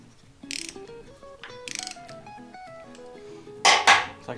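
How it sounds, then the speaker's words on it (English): A Time-Sert thread repair tool is unthreaded from a stripped spark plug hole, giving irregular metallic ratcheting clicks with a few louder scraping bursts, close and alone with no talk. "I'm just gonna unthread this, clean the threads out one more time."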